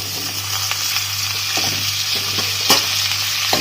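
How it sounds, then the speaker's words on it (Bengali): Potatoes frying in hot oil for Kolkata-style singara filling, a loud continuous sizzle punctuated by scraping stir strokes every half second or so, close and without talk. "তেলটা কিন্তু আমাদের ভালো গরম হয়ে গেছে এর মধ্যে আবার আলুগুলো দিয়ে দেবো"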